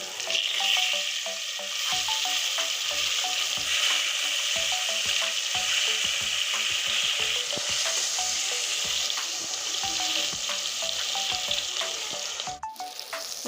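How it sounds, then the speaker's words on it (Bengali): Fish pieces fry in a pan of hot oil with a dense, steady sizzle, broken by rhythmic clinks and scrapes of a utensil as they are turned and a sharp knock near the end. "দেখুন তেলে আমি ছেড়ে দিয়েছি এখন আমি মাছগুলো উল্টিয়ে দিচ্ছি"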